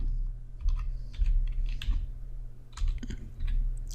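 Keyboard typing while entering Java code for an exit button, a steady run of close, crisp key clicks in irregular bursts over a low background hum.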